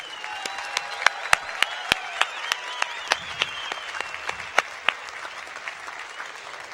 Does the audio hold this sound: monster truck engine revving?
no